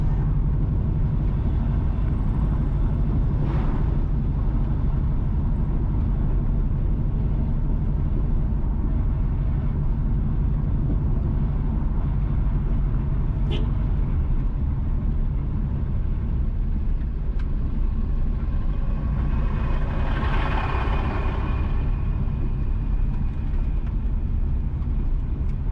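A car driving west along a road from Alva toward Alexandria in St Ann, Jamaica: a steady loud interior engine and road rumble, with a brief whoosh of a passing vehicle near the middle and another swell later.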